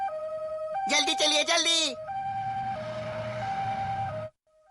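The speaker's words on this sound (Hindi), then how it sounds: "एम्बुलेंस की आवाज।" A cartoon ambulance siren wails steadily in a two-tone pattern, loud and close, while a character speaks hurriedly over it before the siren cuts off.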